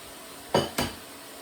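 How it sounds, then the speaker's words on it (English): Two quick, sharp taps as eggs are cracked against a bowl for a lasagne filling, close and distinct, a quarter second apart in an otherwise quiet kitchen. "so now we're also going to add 2 eggs"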